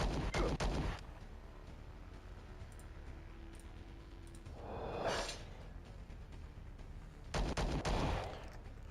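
Bursts of gunfire in the space combat game Star Traders: Frontiers, with a loud volley at the start, a softer whooshing blast midway and another loud burst near the end, separated by quieter ambient hum.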